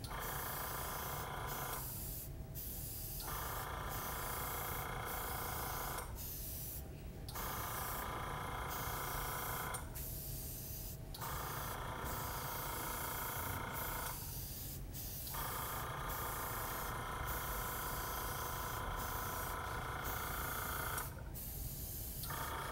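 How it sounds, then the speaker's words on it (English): An airbrush sprays pre-mixed lacquer paint in a continuous close hiss, broken by four short pauses where the trigger is released before spraying resumes. "Airbrush ready."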